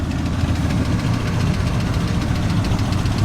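A Triumph TR5 British sports car's fuel-injected 2.5-litre engine idles at a classic car show with a steady, throaty rumble and slight rhythmic pulsing, close by and continuous.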